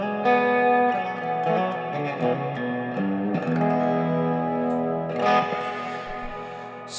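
Electric guitar played through a reverb pedal on a pedalboard, sustained chords ringing with a washy, echoing tail and some chorus-like shimmer, loud and alone with no talking.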